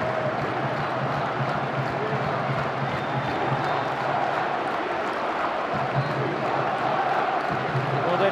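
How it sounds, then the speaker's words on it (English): A football crowd at an MK Dons home match against Yeovil Town roars with a sustained, dense cheer that holds steady throughout, with a commentator talking over it. "they're cheering because they've heard that Colchester have been given a penalty in the game against Preston"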